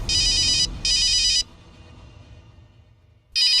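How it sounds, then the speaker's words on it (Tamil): A phone rings with an incoming call, two loud electronic ring bursts followed by a muffled lower-pitched pause, then a third burst starting again; no talking. "சித்தார்த்தா ஃபோன் பண்றாரு."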